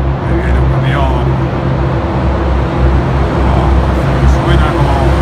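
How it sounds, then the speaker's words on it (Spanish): A truck approaches along a road with a loud, continuous low rumble that stays steady and heavy throughout, close and dominant, with no talk over it. "El ruido del coche que se acerca, parece que es un estruendo. Ahí viene un camión."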